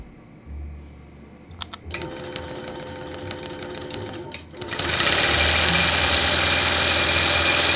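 A longarm quilting machine stitches steadily, a loud continuous mechanical whir that swells to full speed after a few quiet starts and short pauses, with nobody talking.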